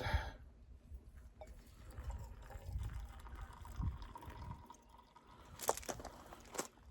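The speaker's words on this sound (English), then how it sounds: "I pour my water over the coffee" Hot water poured over ground coffee in a homemade bushcraft coffee maker, a soft close trickle and gurgle of liquid filling, quiet and intermittent with faint splashes, no talking.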